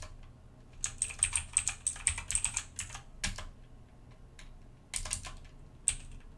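Commands being typed on a computer keyboard during Linux server forensics work: a quick run of crisp key clicks, a pause, then a few scattered keystrokes, close and fairly quiet.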